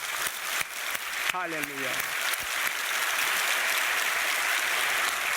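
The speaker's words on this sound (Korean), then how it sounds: "하나님께 영광의 큰 박수 올려드립시다" A church congregation breaks into big applause that builds into a steady, full roar of clapping. A voice speaks briefly at the start before the clapping takes over and holds at even strength.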